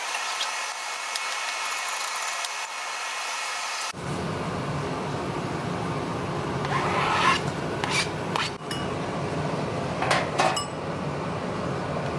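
Red onion and bell pepper are sliced with a knife on a board, a steady rasping scrape followed by several sharp, close cutting taps, with no voices.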